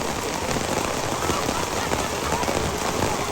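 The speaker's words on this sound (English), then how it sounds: "Rain is heavy" Heavy rain pours steadily over an outdoor high school soccer match, a dense, even hiss of drops hitting surfaces with no voices.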